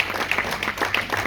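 A church congregation applauds and cheers before a sermon, a steady wash of clapping with scattered louder bursts throughout, fairly close and filling the room.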